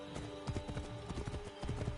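Horse hooves clip-clop in the Assassin's Creed Origins video game, a quick rhythmic gait of repeated thuds over a faint sustained musical drone, fairly clear and unbroken by speech.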